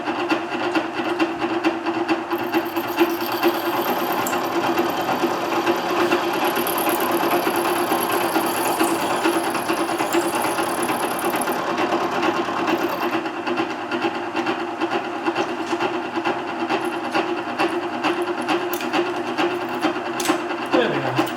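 A machine cuts through thin metal on a locomotive axlebox horn, a steady, loud grinding-and-rasping drone that runs continuously with dense high-pitched metallic whine and slight surges.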